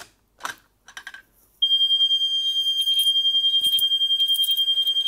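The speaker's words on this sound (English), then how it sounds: "We got the panel alarm." After a few clicks and handling noises from the pull station, a Gentex mini-sounder fire alarm begins a loud, steady high-pitched tone that pulses rapidly and continues without pause.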